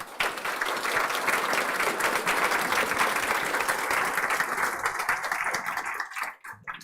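A conference audience applauds the panelists, a dense, sustained wash of many hands clapping that carries on for several seconds before thinning out and stopping.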